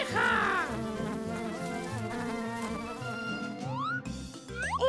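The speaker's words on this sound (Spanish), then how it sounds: "¡Abeja!" A cartoon bee buzzes steadily over a bright children's tune, the insect drone sitting close and loud beneath the music.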